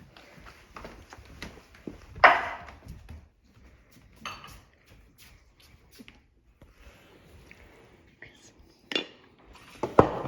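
A bowl is taken out in a kitchen while making bacon mac and cheese, giving a few scattered clinks and knocks of dishes with quiet handling noise in between.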